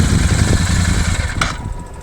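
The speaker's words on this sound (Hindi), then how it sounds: "अब थोड़ा सा बाइक चलाते हैं, देखते हैं" A Royal Enfield Super Meteor 650 motorcycle runs with a steady, deep, thumping engine rumble, close and loud throughout, with a brief sharper noise near the middle.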